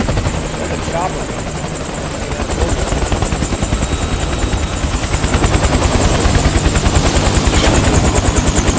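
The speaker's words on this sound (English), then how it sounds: "Look at the chopper." A helicopter's rotor thumps in a fast, steady, loud chop that grows slightly closer, in the Metal Gear Solid 4 video game, under occasional talking.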